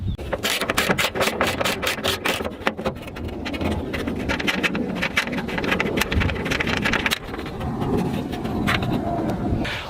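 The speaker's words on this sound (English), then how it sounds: "We're gonna fit the ratchet and we're gonna unscrew the star." A ratchet unscrews the star badge from the boot lid of a Mercedes-Benz W123, giving a rapid run of close, crisp clicks that slow into scattered ratcheting and rubbing.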